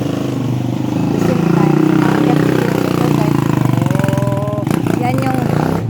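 A motorcycle engine idles close by with a steady low rumble throughout, while people talk over it in a rural Filipino home setting.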